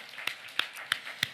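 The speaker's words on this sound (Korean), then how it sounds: "박수 한번 쳐요" Congregation clapping during a festival worship service at a church, four sharp claps spaced evenly about a third of a second apart, moderately close and faint, with no talk over them.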